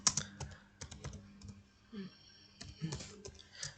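Irregular bursts of close, quiet key clicks as code is typed on a computer keyboard, with brief pauses between the runs.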